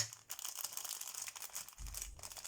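A small paper sachet being opened at a craft table, with dry crinkling and tearing over the whole stretch and a low thump near the end, close and fairly quiet, with no voices.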